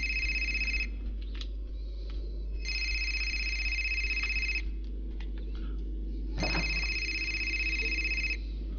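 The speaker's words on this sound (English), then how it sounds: "I think it's ringing right here." Telephone ringing in the video game Fahrenheit, three electronic trilling rings separated by pauses, steady and moderately clear over a low background hum.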